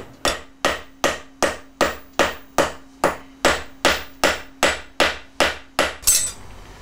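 A hammer beats cold metal to bend it in traditional metalworking, landing about fourteen loud, evenly spaced ringing blows, each decaying before the next, with a final scraping clatter.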